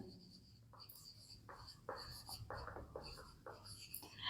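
Pen or marker writing out an example during a Hindi-language biology lesson on asexual reproduction, a run of short scratchy strokes in bursts, close and fairly quiet with no talk over it.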